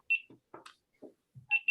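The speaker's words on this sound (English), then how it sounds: "And your GoPro's beeping." A GoPro action camera sounds a short electronic beep tune: a sustained high tone, a few softer scattered blips, then two more bright beeps with a lower undertone at the end, clear and close in an otherwise quiet room.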